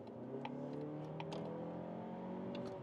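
A 2025 Mazda 3 with a 2.5-litre engine pulls hard on the German Autobahn, its engine tone rising steadily as it accelerates, heard fairly faintly from inside the cabin, alone with no voices.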